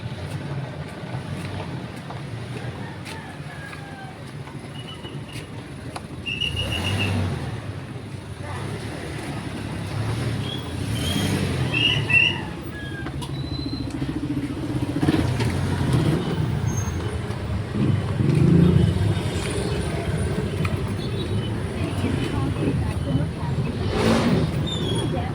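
Road traffic hums steadily while cars and heavier vehicles pass at a moderate distance, with occasional swells as engines go by and faint voices now and then.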